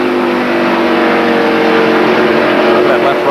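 Stock cars roar around the track in the 1993 Slick 50 300 NASCAR race, with a loud, continuous engine drone and layered motor tones as Earnhardt and Jimmy Spencer battle for position.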